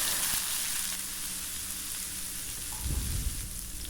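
Soft, continuous sizzle of onions frying in oil, fairly quiet, with a brief low knock near the end.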